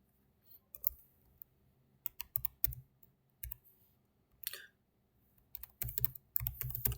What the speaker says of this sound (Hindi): यूज़र नेम और पासवर्ड एंटर करके हम लॉगिन हो करेंगे